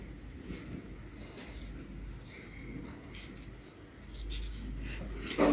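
Pen writing on paper while drawing, soft faint scratching strokes that come and go, close but quiet under light room noise.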